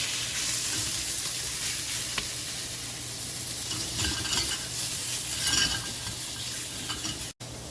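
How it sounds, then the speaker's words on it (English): Shrimp for scampi sizzle steadily in hot oil in a pan, a constant crackling fry with occasional stirring clinks, close and continuous without any talk. "Last little bit of oil. And let's put our shrimp in there."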